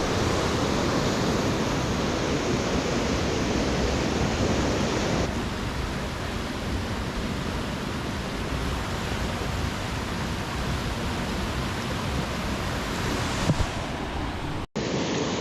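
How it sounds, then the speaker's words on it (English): Steady, broadband rush of river water flowing through the Strid, continuous and fairly loud, with a slight drop in intensity partway through and a brief knock near the end. "it's familiar for me just hearing this sound of flowing water"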